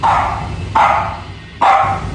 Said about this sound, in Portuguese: Cães latem.